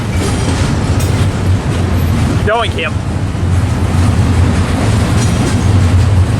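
A Union Pacific freight train led by UP 6199, hauling all three types of GE Evolution-series locomotives, rumbles past close and loud with a steady roar and rail clatter, while a voice briefly speaks over it.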